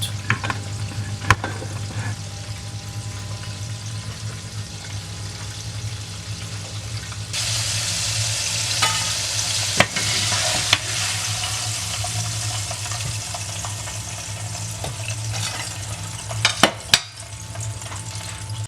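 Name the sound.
shrimp frying in oil in a pot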